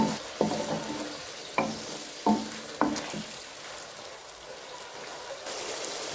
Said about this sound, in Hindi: मीडियम आंच पे 5 मिनट के लिए मैं टमाटरों को भी इसी तरीके से चम्मच के साथ हिलाती रहूँगी